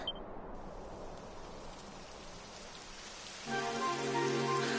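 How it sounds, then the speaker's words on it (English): Steady rain patters and hisses across the whole stretch in Dragon Quest XI at Cobblestone Tor, with a soft electronic tone layered in near the end. "It would have to go and start raining, wouldn't it?"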